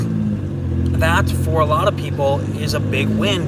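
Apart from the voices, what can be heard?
diesel engine running, tuned with 4-inch exhaust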